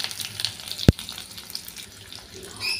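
Chopped onion goes into hot mustard oil tempered with spices for a home-style drumstick curry, giving a soft, steady frying sizzle with a single sharp click near the start, heard up close.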